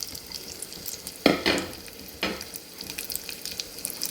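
Food frying in hot oil in a pan while a sweet dish is made: a steady, close sizzling hiss broken by a few sharp stirring scrapes.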